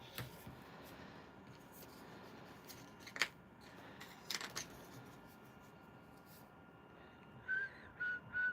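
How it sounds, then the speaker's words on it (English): A person whistling during a painting livestream: a few short, faint whistled notes near the end, with occasional light taps and quiet room noise before them. "didn't mean to whistle there"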